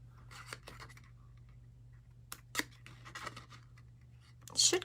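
Scissors cut patterned paper for a mini Easter basket craft, giving a few sharp, close snips and slicing strokes with quiet pauses between them.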